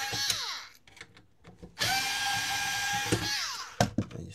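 A power screwdriver whirs in short bursts then one longer run while removing screws from a Yamaha KX580S special edition cassette deck, close up, with a faint voice between bursts.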